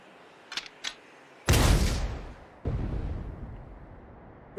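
A tank cannon fires a single heavy shot in the Sand Land video game, a loud booming blast with a rumbling tail, followed by a second roaring burst, after two faint thumps at the start.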